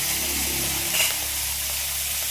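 Small pieces of fish oil seasoned with salt, turmeric and chili powder fry in hot oil with a steady close hiss, briefly flaring louder, with no talk over it.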